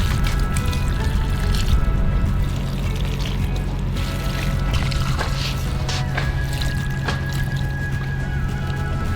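Water pours onto parched potted dahlia plants, a continuous splashing and trickling stream with a low steady hum underneath, close and moderately loud for several seconds without speech.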